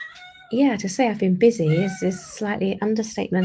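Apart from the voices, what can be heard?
cat meowing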